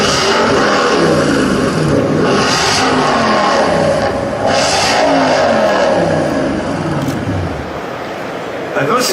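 An Infiniti V8 rated at 420 horsepower revving at a motor show, a throaty rising and falling engine roar that swells repeatedly before easing off near the end, with a voice speaking over it.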